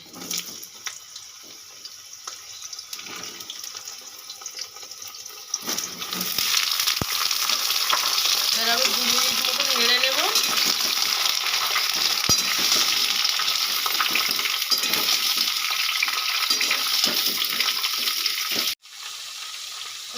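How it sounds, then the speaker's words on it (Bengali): Ridge gourd sautés in a pan with cumin, bay leaf and green chilli. A softer sizzle with light stirring gives way to a loud, close, steady hiss that cuts off briefly near the end and then resumes more quietly. "দু মিনিট ঝিঙেটা ভালো করে কষিয়ে নিয়েছি"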